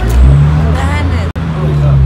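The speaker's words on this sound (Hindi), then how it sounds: "ये गाड़ी शोर कर रही है।" A sleeper bus bound for Jammu sends a loud, steady engine drone and rumble through the cabin, with people talking over it and a brief cutout midway.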